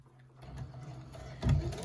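A sewing machine stitches scrunchie fabric. The motor whirs up quietly and then runs in a steady mechanical hum with stitching ticks, swelling louder near the end, with no voices.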